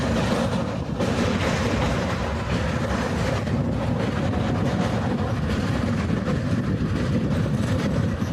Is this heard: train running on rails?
yes